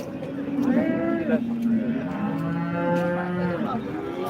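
Cattle at a cow market moo loudly and repeatedly at close range, several long overlapping calls rising and falling over a busy background murmur.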